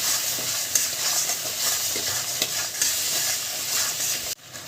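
Spice masala with cumin and coriander powder and salt sizzles steadily in a pan while a spoon stirs it, giving a continuous bright hiss with soft scraping strokes, close and loud, then cutting off abruptly near the end.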